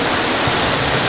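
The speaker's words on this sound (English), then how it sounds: "Down there, yeah, there's the waterfall." A waterfall at Disney's Wilderness Lodge roars in a loud, steady, unbroken rush of water.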